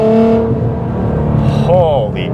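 An R35 Nissan GT-R, making around 700 horsepower, accelerates at quarter throttle with a close, rising engine drone, while a voice talks over it.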